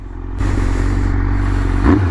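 A 1997 Suzuki GSX-R motorcycle fitted with an aftermarket Carbon Force exhaust idles close by, a steady low purr that grows louder after a brief start, with no talking.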